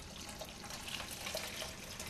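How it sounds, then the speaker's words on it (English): A yeast mixture is poured onto milk while making bread, giving a soft, continuous liquid splashing and trickling, fairly quiet and with no talking. "Pour the yeast mixture on top of the milk and stir."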